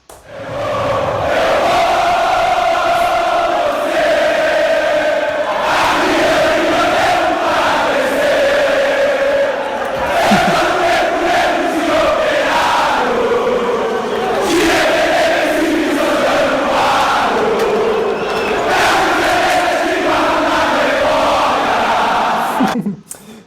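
Brazilian football supporters of Vasco da Gama chant and roar together in a packed stadium, a loud, continuous mass of singing voices with rhythmic rises and shouts sustained for over twenty seconds.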